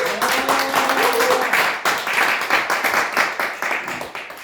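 A lecture audience applauds in a burst of dense clapping that starts strong and carries on with rhythmic pulses, gradually thinning. A voice is heard faintly at the start.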